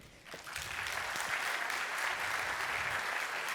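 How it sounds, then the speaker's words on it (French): Conference audience at a digital festival breaking into applause, rising quickly from a quiet start into a full, even clapping from a sizable crowd that continues to the end. "On peut l'applaudir."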